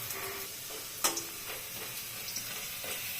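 Potato pieces frying in oil in a pan for a watermelon-rind ghonto, a soft, even sizzle with a few faint utensil taps, fairly quiet and close.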